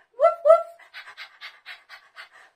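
Children and an adult imitate a dog with rhythmic woof and panting sounds in a preschool class, two stronger calls followed by a quick run of lighter breathy bursts, close and clear.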